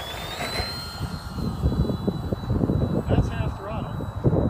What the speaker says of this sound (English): That's half throttle.